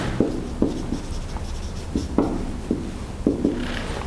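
Writing during a university lecture on a board, a series of close scratchy strokes and sharp taps at an irregular pace, with short pauses between marks and no talking.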